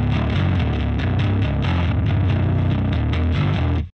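A bass guitar plays through Softube's default Marshall amp plugin, giving a distorted, buzzy tone with a dense low end as a steady riff of repeated notes runs for a few seconds before stopping abruptly.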